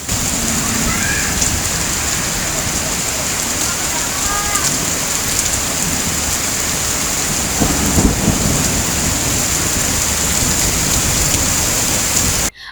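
Heavy unseasonal rain in Amravati, a loud dense roar of downpour that stays unbroken throughout, with a deep rumble of thunder rolling in about two-thirds of the way through.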